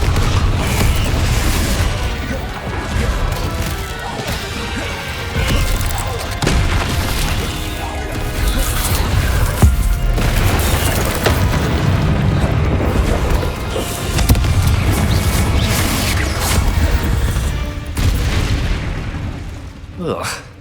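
Fiery Confringo spell blasts in Hogwarts Legacy, with repeated booms and bursts over dense game music and combat noise, loud and close, alongside shouted spell voices.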